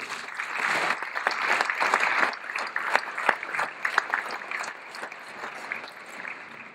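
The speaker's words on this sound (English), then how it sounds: "So if you give them a round of applause, please." An audience at a chamber of commerce annual dinner in Marion, Illinois, claps loudly and steadily for several seconds, with sharp individual claps standing out before the applause gradually thins.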